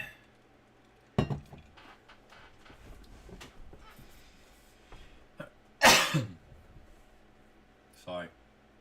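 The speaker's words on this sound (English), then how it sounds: "I really wish I didn't have to cough so much, but I do tonight." A person coughs in a few loud, close bursts during a late-night live pest-control question session, with some clinking and handling noise between them.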